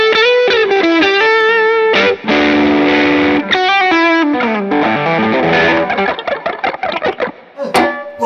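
An electric guitar plays through a Benson germanium booster into an overdrive or distortion pedal, giving loud, saturated, sustained chords and notes in a quick phrase, alone with no talk.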